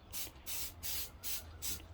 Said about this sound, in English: He's going to spray the glue on